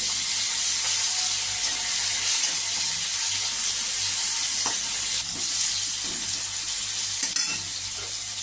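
Tomatoes frying in hot oil in a pan, a loud steady close sizzle that hisses throughout, with a few faint stirring scrapes near the end.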